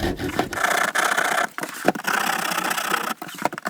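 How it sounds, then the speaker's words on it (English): A regular hand rasp rounds over the sharp wooden edges of a storage ottoman lid, giving repeated rough scraping strokes in a steady back-and-forth rhythm, close and fairly loud with brief pauses between passes. "I'm just going to round over these edges now. Just going to use a regular rasp just to round them off."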